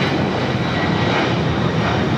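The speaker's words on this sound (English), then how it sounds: "Latam Airlines 2479, taking off to Lima, Peru on the 767 300ER." A Latam Airlines Boeing 767-300ER taking off at LAX bound for Lima, its engines producing a loud, continuous broadband roar that holds steady throughout.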